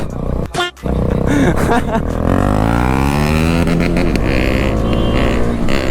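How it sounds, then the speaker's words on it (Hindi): A motorcycle engine roars loudly and steadily while riding, its pitch rising and falling through the whole stretch, with a short dip near the start. "आवाज़ जो आ रही है ना भाई इस बाइक की, ओहो खतरनाक।"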